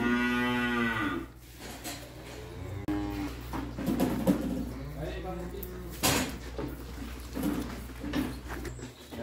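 A cow lets out a long, loud moo, followed by muffled rustling, knocks and talking nearby.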